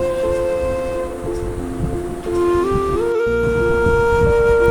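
Passenger train bound for Cox's Bazar rolling steadily, a loud continuous rumble with sustained tonal whine that shifts pitch partway through, briefly dropping out in the middle.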